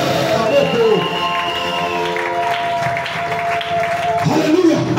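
Church congregation at a French-language worship service applauding and cheering loudly and continuously, with crowd voices and a sustained tone running beneath the clapping throughout.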